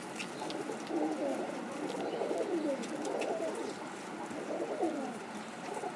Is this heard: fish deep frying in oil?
no